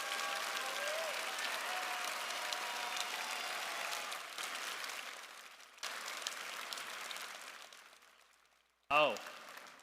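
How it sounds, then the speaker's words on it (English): Applause from the audience at a FIRST robotics district championship fills a large arena, steady and broad, then fades out before a short burst of other sound near the end. "Please clap for them."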